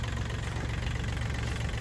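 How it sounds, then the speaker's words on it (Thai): A Kubota L4018 tractor's diesel engine idles steadily up close with a loud, even low rumble and a slight knock, with no voices over it. "เครื่องยนต์ติดง่ายนะครับ น้ำปกติ ไม่ดันนะครับไม่มีฟอง เครื่องยนต์ไม่มีไอนะครับ"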